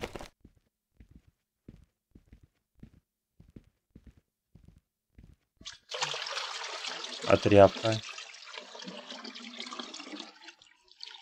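A bucket of water is poured out under a door in a video game, a burst of splashing and spreading liquid after sparse quiet ticks, with a short voice in the background.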